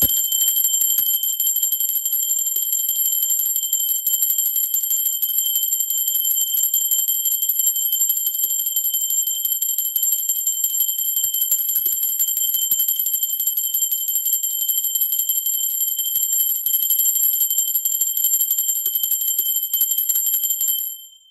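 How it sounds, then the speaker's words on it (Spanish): A steady, sustained bell tone rings with a bright metallic shimmer, holding at an even loudness for about twenty seconds before cutting off, with no talking over it. "Va campana."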